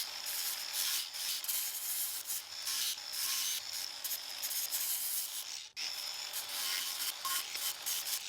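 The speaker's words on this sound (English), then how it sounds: "It's like a Scotch-Brite pad right here. I'm gonna go back over the top of this just to kind of even it out a little bit." A Scotch-Brite pad scrubbed over an engine intake being restored for repainting, giving steady close rasping strokes with a brief pause midway and no talk.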